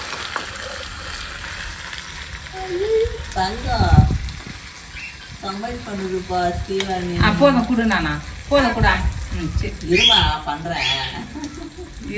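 Tomatoes sautéing in a pan for a Chettinad chicken gravy in a village kitchen, a soft continuous sizzle and occasional stirring running beneath a person talking throughout.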